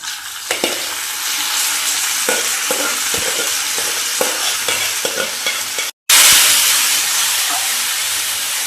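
Okra fritters stirred into a curry in a pan, heard as sizzling and hissing under repeated scraping stirs, then a brief cutout followed by a louder, steady sizzle.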